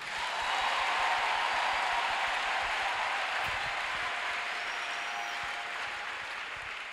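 Church congregation at a French-language worship service applauding together, a dense steady wash of clapping that swells in quickly, holds strong, and eases slightly toward the end.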